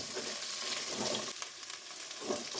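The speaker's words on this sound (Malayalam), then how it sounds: "വെണ്ടയ്ക്കയുടെ ഞവളപ്പൊക്കെ പോകാൻ വേണ്ടിയിട്ടാണ് നമ്മളിങ്ങനെ ഇട്ടൊന്ന് വരട്ടിയെടുക്കുന്നത്" Okra sautéing in a pan to dry out its sliminess, made for a Kerala-style okra curry with roasted coconut paste: a steady, close, dense sizzle and crackle with no speech.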